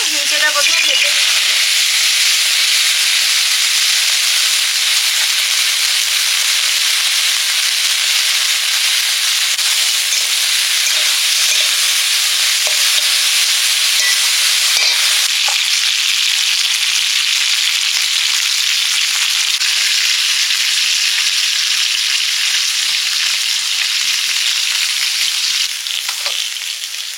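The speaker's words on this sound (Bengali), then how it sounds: "হিঞ্চে বেগুন আলু সিমের তরকারিটা করার জন্য হিঞ্চেটা প্রথমে ভেজে নিচ্ছি" Helencha (water spinach) greens frying in hot oil in a pan for a Bengali vegetable curry, a loud, steady sizzle and crackle running unbroken throughout with occasional faint stirring scrapes and no talk.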